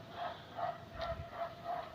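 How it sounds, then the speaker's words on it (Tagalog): Several dogs bark repeatedly at a distance, faint and a little muffled, under steady background noise. "Medyo maingay lang gawa ng mga aso."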